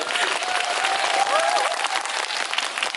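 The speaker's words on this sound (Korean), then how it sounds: "박수 부탁드립니다." An audience at a live movie talk event with actors applauds steadily, a dense, even wash of many hands clapping for a few seconds with a faint voice underneath.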